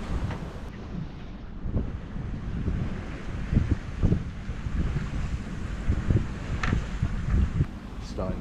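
Wind buffets the microphone aboard a sailboat beating into the wind, with rushing gusts over water sloshing against the hull, steady and close throughout.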